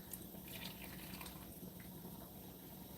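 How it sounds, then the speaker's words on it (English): Grain vinegar poured into warm milk in a pot and stirred, giving a soft continuous liquid trickle and faint sloshing, quiet and close with no talk. "you're going to pour it in and you're going to stir it"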